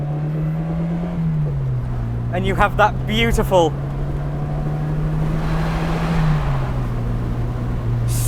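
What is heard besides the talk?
Italian sports car engine revving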